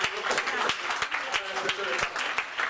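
Applause from a church congregation during a worship service, uneven clapping with distinct sharp claps standing out, mixed with voices.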